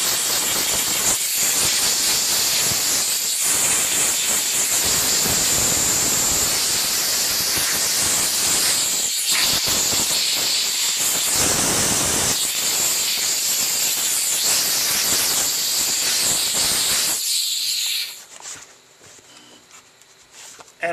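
A JNX-3000 car interior steam cleaner blasts loud, continuous hissing steam into a dirty seat track, pulsing slightly as the nozzle moves, then cuts off abruptly near the end.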